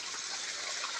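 Water rushes out of a farm borewell in a steady, hissing gush, fairly soft and unbroken, with no voices.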